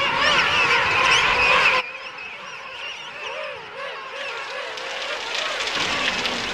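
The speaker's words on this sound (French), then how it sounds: "Kerguelen et les îles Crozet accueillent ainsi les plus fortes concentrations d'oiseaux marins de toute la planète." Dense seabird colony calling on the Kerguelen or Crozet islands, a clamour of many overlapping honking and squawking cries, loud at first, then thinner with wavering calls continuing to the end.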